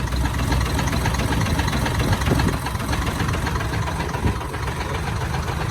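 A diesel engine idles steadily nearby, a dense rumbling clatter that holds constant with no voices; the engine sounds like an Isuzu A09 truck engine.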